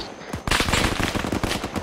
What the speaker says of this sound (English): There's a guy hard on my right fucking light me up with a machine gun.